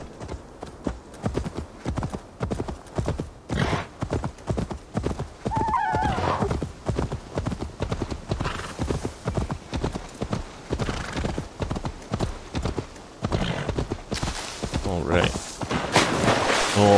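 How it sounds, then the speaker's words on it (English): Horse hooves clip-clop in a steady rhythm with a neigh partway through, from the video game Assassin's Creed Valhalla, mixed with game ambience while someone talks over it. "Sweet, a free horse?"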